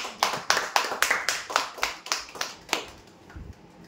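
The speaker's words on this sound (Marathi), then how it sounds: "जोरदार टाळ्या." Applause at a weekly lucky-draw event announcing DTH prize winners: a quick, steady run of sharp claps that thins out and fades after about three seconds.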